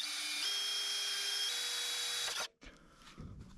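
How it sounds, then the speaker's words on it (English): A power drill bores into metal on a car's rusted cooling system, whining steadily at a high pitch, its tone stepping up a couple of times, then stops abruptly, leaving faint clatter. "I'm gonna drill this out, give it a third hole in the center here."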